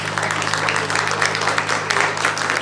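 Audience applause at a devotional evening program honoring Sai Baba, cheering on a child performer. The clapping is a steady, dense wash that holds at an even level for the whole stretch, with a low electrical hum underneath.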